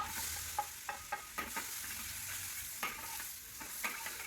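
Onion sautéing in margarine in a wok, a soft, low-level sizzle broken by a series of light clicks and scrapes from stirring, no voices.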